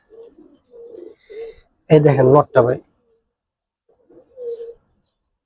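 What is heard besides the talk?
pigeon cooing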